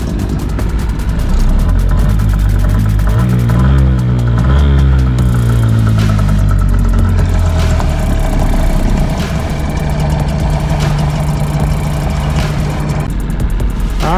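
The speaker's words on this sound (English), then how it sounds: "because it's kind of a small engine, this one." A small engine on a Jamaican fishing boat runs loud and close, a steady mechanical drone with rising and falling pitch sweeps as the throttle changes, alongside a constant water and hull wash.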